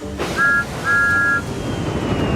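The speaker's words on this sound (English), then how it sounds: "with a toot of his whistle" A steam engine's whistle in the Sodor Online railway video game gives two clear tones, a short toot then a longer one, loud and close with no talk.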